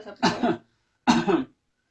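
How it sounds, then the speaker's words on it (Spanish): Two separate close coughs from one person, each a short harsh burst with a brief gap between, in an otherwise quiet setting. "Un claro ejemplo es cuando la persona tose"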